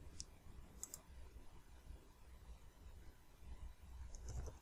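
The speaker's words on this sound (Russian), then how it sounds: "Нажимаю на кнопку «Добавить»." A computer mouse button clicks a few times, faint and close, over a low background hum.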